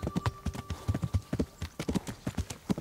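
Horse hooves clip-clopping steadily in the video game Kingdom Come: Deliverance, a continuous moderate-paced rhythm of soft, close hoofbeats.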